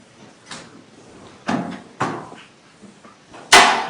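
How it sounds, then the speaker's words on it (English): Inside a courtroom, a door is handled with several separate knocks and thuds spread over a few seconds, and a louder, sharper closing clunk comes near the end. The sounds are moderately close. "Close that door, please."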